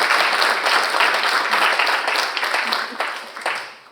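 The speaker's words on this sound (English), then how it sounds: "So please give yourselves a round of applause." A summit audience at a closing general session applauds in a full, dense round that holds steady, then tapers off at the end.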